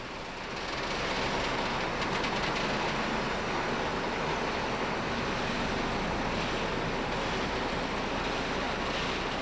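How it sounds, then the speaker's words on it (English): A Czech Class 471 electric multiple unit passing through Prague Libeň station, a steady, continuous rumble and rush of wheels and running gear that stays loud throughout, with no talk. "Most are operated by Class 471 electric units, such as we see here"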